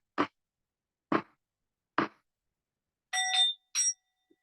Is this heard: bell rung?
yes